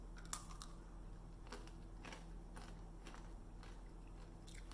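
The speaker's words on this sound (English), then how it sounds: "Chickpeas are quite crunchy." Someone bites into a dark chocolate chickpea snack, close and quiet, with a few sharp crunches spread across a faint background hum.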